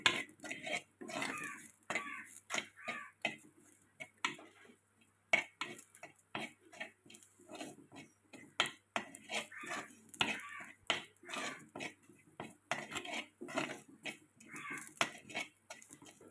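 A spoon stirs masala with turmeric in a pan for a Kerala fish curry, giving steady rhythmic scraping and metallic clinks at close range, quiet and continuous.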